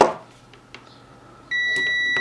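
A multimeter's continuity tester beeps while checking a C13 kettle-lead power cord: quiet probe clicks and handling, then a sudden steady high-pitched tone that holds to the end.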